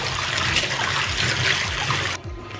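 Water running from a tap into a bathtub, a steady, fairly loud rushing splash that drops off suddenly near the end, with no talking.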